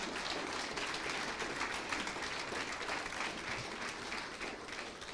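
A church congregation claps steadily at a sermon, a dense, even wash of applause that holds at the same level throughout with no voices over it.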